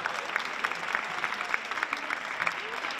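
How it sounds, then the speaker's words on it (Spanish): Sustained applause from an audience at a university tuna music contest awards ceremony, steady dense clapping throughout with no talk over it. "un fuerte aplauso"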